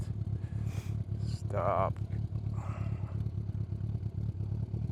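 A custom bobber motorcycle engine chugs at low, uneven revs as the rider shifts gears, a steady close throb with brief mechanical clatter and a short spoken word over it.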